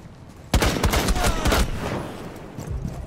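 Gunfire in Rainbow Six Siege, a rapid burst of several loud, close shots in quick succession, then fading echo and low background rumble.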